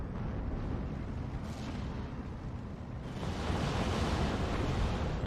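Cluster bombs explode in Steel Division 2, a continuous rumbling barrage of blasts that swells louder partway through, with no talk.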